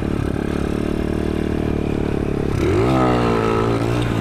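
A motorcycle engine holds a loud, steady high-revving drone at close range during a wheelie attempt, then the pitch climbs sharply as the throttle opens and it accelerates away.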